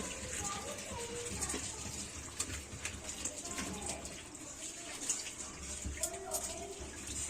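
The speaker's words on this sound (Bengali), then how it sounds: "কাটা হয়ে গেল, এবার ধোয়া হচ্ছে।" Running water washes cut potatoes and pointed gourd in a home kitchen, a steady splashing gush with scattered clinks, moderately quiet, with a person talking over it.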